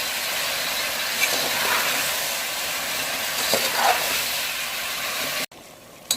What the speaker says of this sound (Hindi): 3 से 4 मिनट तक फ्राई करेंगे।